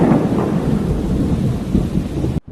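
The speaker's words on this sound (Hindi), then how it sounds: "तभी बहुत तेज बारिश होने लगी" Heavy rain pours steadily while deep thunder rumbles and rolls loudly across a broad, continuous wash of noise, ending in an abrupt cut.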